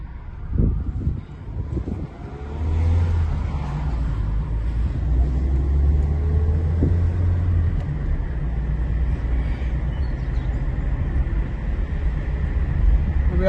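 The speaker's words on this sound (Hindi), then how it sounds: "तो अब हम फिर रोड पे निकालेंगे चेक करने के लिए या सारा कुछ सही है" Car with newly replaced brake discs driving on a road, a steady low engine and tyre rumble with wind noise that builds after a brief pull-away and holds evenly throughout, no voices.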